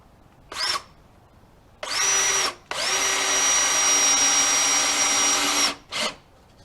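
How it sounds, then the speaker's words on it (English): A power drill drives screws into a kitchen seating frame with storage, in short whirring bursts followed by one long sustained run and a final brief burst, loud and close. "I'm going to go ahead and put screws in."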